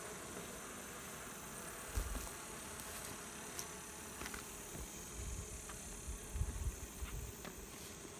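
Honeybees buzzing around an opened backyard hive, a steady soft drone of many insects with scattered brief close flybys and light handling knocks.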